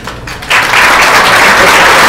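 Audience applause at a business awards event, starting as a brief quieter patter and swelling into dense, sustained clapping from a large crowd that fills the room steadily to the end.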